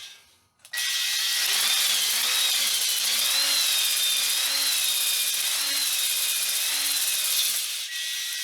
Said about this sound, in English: I'm going to go fast with the drill speed, slow with the in-out speed for a little bit